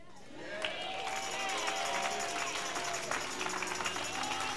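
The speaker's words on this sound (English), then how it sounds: "Now, that was your introductory clap, right?" A church congregation claps together during a Sunday worship service, a steady wash of applause that rises quickly and holds at a full, even level throughout, with some crowd noise mixed in.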